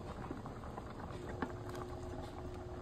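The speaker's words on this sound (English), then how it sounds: "Oh, that is boiling." Alfredo sauce bubbles in a pan on the stove, a faint, continuous low simmer with small popping pops scattered throughout and one slightly sharper burst.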